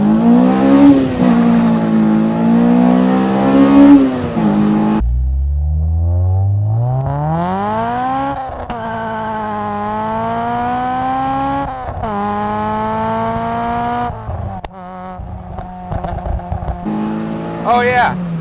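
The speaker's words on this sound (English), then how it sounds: "I'll roll into it in first, and even with a limited slip, it still spins in first." Modified Acura RSX Type S with limited slip and an 8,600 RPM redline accelerating hard in first gear with wheelspin: loud engine rising steadily in pitch, a shift, then another long rev climb, with a voice talking over parts.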